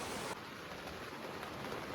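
Rain falls steadily at a night campsite, a soft, even wash of drops heard faint and uninterrupted throughout.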